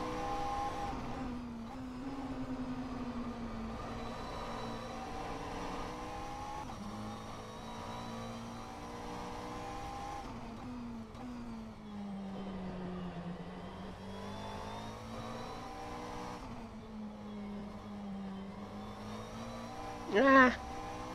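McLaren 720S GT3 race car engine lapping Sebring in rFactor 2, a steady droning note rising and falling with throttle throughout, with a brief sharp burst near the end; speech is faintly mixed in.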